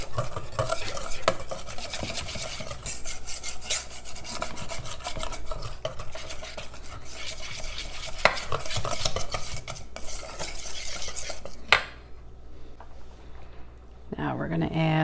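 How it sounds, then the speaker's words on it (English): Chocolate bundt cake batter with vanilla gets mixed in a bowl, a continuous close scraping and swishing of utensil against the sides with occasional clinks, then it stops and talking follows. "I'm gonna mix this up and get it smooth"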